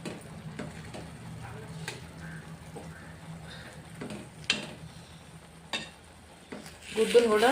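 An egg fries in a pan of oil, with scattered scrapes and taps of a utensil turning it over a soft, continuous sizzle, ending in a louder burst of sizzling.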